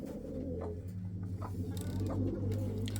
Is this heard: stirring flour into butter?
no